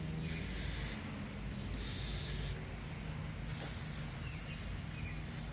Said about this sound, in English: You also may notice I am spraying parts of the frame.